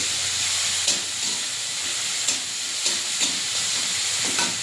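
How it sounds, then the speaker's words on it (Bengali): Steady, close sizzling and hissing of prawns frying with chopped onion and five-spice tempering in a pan, with a few soft clicks of a utensil scattered through; no voices. "একটু ভাজা ভাজা করে নেব।"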